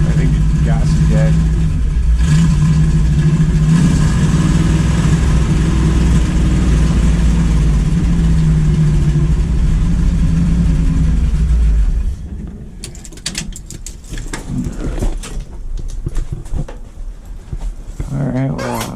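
A 1972 Dodge Demon muscle car engine running rough gives a loud, steady low rumble for about twelve seconds, then cuts out to quieter clatter and handling noises, with someone talking over it.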